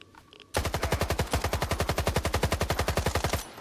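A full magazine emptied from an automatic rifle in Stalker 2, about thirty rapid, evenly spaced shots in one loud, close burst that starts abruptly after a quiet moment.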